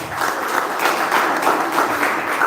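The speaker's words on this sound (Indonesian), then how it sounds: "Oke, boleh tepuk tangan teman-teman semua." Audience applause at a technical meeting for a youth badminton and futsal tournament: steady, dense clapping from a room of people, sustained at even loudness throughout with no voices over it.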